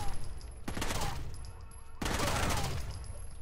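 Gunfire in the tactical shooter game Rainbow Six: Vegas, dense bursts of shots in two loud volleys separated by a brief lull, with a steady background hum.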